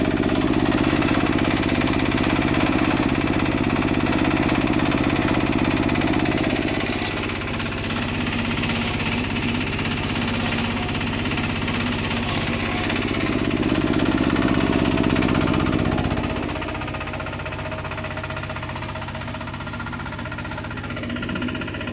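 A 2024 Toyota LandCruiser 70 series engine cranks over and runs with a steady, loud mid-pitched drone, its level easing slightly partway through and again near the end, with no talk over it.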